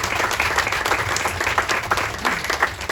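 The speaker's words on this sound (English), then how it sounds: "So please give our law enforcement a round of applause." An audience at a Virginia diner expansion announcement applauds law enforcement with a brief, steady burst of clapping from a crowd of moderate size.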